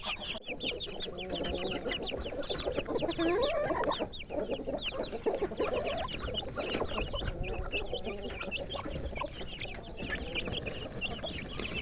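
Several chickens cluck and chatter continuously, fairly close, with overlapping soft calls and occasional higher squawks from the flock.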